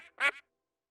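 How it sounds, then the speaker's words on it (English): A duck in a children's sound game gives a single short nasal quack, close and clear, followed by silence. "that's the sound of a duck."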